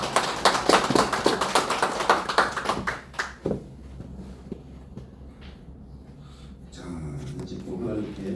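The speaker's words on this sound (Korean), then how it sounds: "박수로 감사합니다." A church congregation at a worship service applauds, a quick run of loud close claps for about three seconds that then fades into quiet room tone, with voices later.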